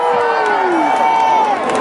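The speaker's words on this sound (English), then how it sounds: "Would you give yourselves a round of applause for that victory?" A large crowd at a school choice rally in Georgia cheers and whoops loudly and continuously, with shouting voices blending into a sustained roar that fills the whole moment.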